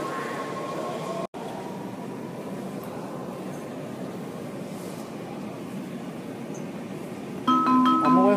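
Metro train in an underground Rosslyn station, a broad steady rumble of the rail car that fills the platform and ends in a louder tonal chime or beep, heard close with no talk.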